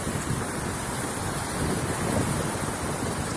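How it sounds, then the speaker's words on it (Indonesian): Big ocean waves crash and roar steadily at the shore of Tanjung Pasir beach, a continuous loud wash of surf mixed with wind buffeting the microphone. "ini ombaknya terlalu besar"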